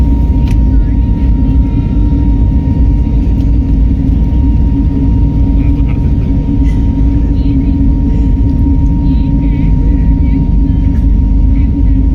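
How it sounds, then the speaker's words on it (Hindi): An airplane taxis toward the runway at night after boarding at Navi Mumbai Airport, giving a loud, steady cabin drone with a constant low rumble and whine, while voices talk faintly over it. "कुछ ही देर में विमान रनवे की ओर बढ़ने लगा।"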